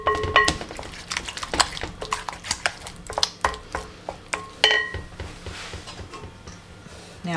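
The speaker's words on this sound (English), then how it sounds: "Just give this a good mix, and automatically I can smell that dill." Dressing with dill being stirred in a bowl, a quick run of light clinking taps of a utensil against the bowl for several seconds, close and fairly loud, with no voice over it.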